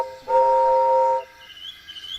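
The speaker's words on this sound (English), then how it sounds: "Presently he heard a whistle." A single steady steam train whistle sounds for about a second, clear and tonal, then cuts off into quiet background.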